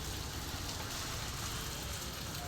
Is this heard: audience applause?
no